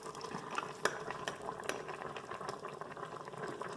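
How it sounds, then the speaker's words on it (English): Cornstarch being stirred into chicken and noodles in an Instant Pot, soft scraping spoon strokes and a few light taps on the pot over a low bubbling simmer, quiet and close. "Give it a stir and"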